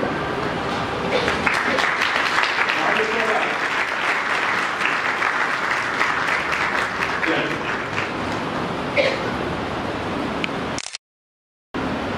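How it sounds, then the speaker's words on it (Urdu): Sustained applause from a church congregation during a Sunday worship service, steady and dense for about eleven seconds before cutting off abruptly to silence. "ہم تالیاں بجائیں گے"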